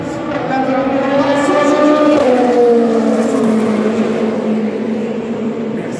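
A Le Mans race car pulls out of the pits after refuelling, its loud, close engine note rising and then dropping in pitch as it gets away, with a voice faintly beneath.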